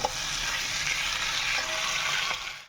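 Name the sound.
stir-frying potatoes and prawns in a pan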